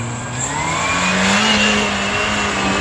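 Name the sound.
Goan 4x4 off-road vehicle engine revving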